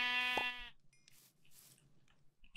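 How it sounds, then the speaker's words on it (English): A single sheep bleats in the Minecraft video game, a short wavering cry up close, followed by soft crunching and quiet game ambience. "There's a sheep, but I don't want to kill him."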